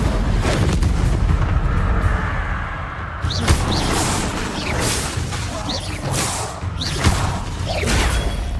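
Fire spell bursts cast repeatedly in the Harry Potter game Hogwarts Legacy, a steady run of whooshing blasts and crackling impacts over a constant rumbling game background, with sharper hits recurring every second or so.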